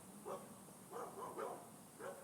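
Dogs bark at someone walking past outside: a handful of short, fairly faint barks spaced about half a second apart, with no talking.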